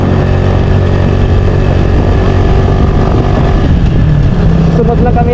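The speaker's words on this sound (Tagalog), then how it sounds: "Malakas yung motor nila." Motorcycle engines drone loudly and continuously while riding on a road in Mindanao, a steady close engine roar filling the whole stretch.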